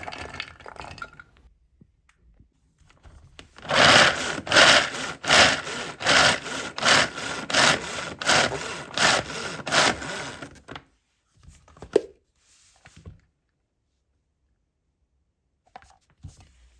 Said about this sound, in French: hacher 70 g de cerneau de noix.